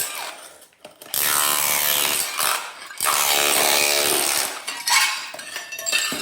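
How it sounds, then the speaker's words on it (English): A cordless SDS hammer drill breaks out a kitchen threshold in loud, sustained bursts of rapid hammering, separated by short pauses, close by. "I'm only using a cordless SDS with hammer drill"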